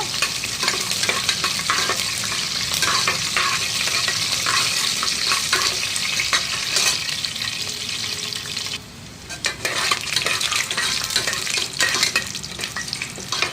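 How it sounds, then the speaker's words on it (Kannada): Curry leaves and spices frying in oil until brown for chitranna made with leftover rice, a continuous close sizzle and crackle with stirring scrapes, briefly dipping quieter midway before resuming. "ಕರಿಬೇವಿನ ಸೊಪ್ಪು ಸ್ವಲ್ಪ ಇದೆಲ್ಲ ಫ್ರೈ ಮಾಡ್ಕೊಳ್ಳೋಣ ಇವಾಗ ಬ್ರೌನ್ ಕಲರ್ ಬರುವವರೆಗೂ"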